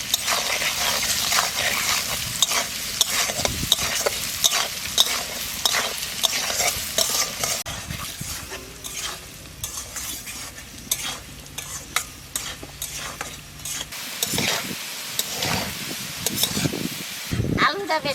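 Banana stem and potatoes with salt and turmeric fry in a pan, giving a steady close sizzle broken by repeated scraping and stirring strokes, with intermittent talk.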